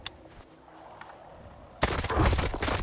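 Gunfire in the video game STALKER 2, a sudden burst of loud, dense rifle shots beginning partway through after a quiet stretch and continuing steadily to the end, with no talk.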